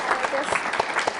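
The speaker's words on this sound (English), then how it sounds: "Why don't we give Petronella a big round of applause?" Audience applause at a conversation event, a brief burst of many hands clapping with some distinct louder claps, fairly close and with a little crowd noise underneath.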